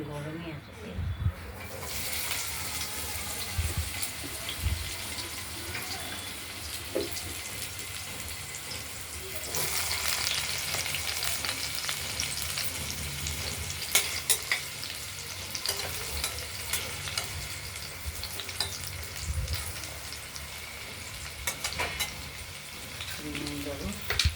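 Potatoes cut into whole chunks hit hot oil with a cumin tempering and fry in a loud, continuous sizzle, punctuated by stirring scrapes and clatters close by, with a voice talking at times over it.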